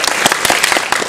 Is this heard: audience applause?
yes